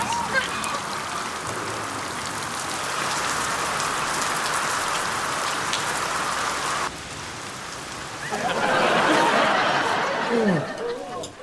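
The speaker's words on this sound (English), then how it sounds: "it's raining too hard to see" Heavy rain pours steadily outside as a constant dense hiss, swelling louder near the end, with voices talking underneath.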